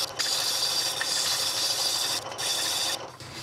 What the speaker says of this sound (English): sand the inside just a little bit